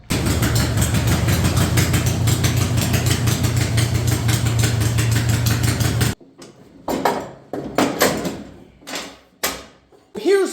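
A tractor engine idles steadily and loudly, hitched to a homemade mower, its low hum running for about six seconds before cutting out, followed by scattered clanks and handling noises.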